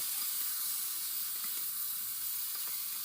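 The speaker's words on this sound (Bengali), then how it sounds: "এবার উনুনে কড়াইটা ভালো করে গরম করে আমরা সমস্ত মাখাগুলো কড়াইতে দিয়ে দিলাম" Cauliflower paturi mixture frying in a hot wok (kadai), giving a steady, close sizzle with soft hiss and faint stirring ticks throughout, no voices.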